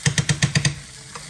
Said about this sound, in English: This is where I'm going to add in my Hassar. This is a toss-up to cover everything in that good masala.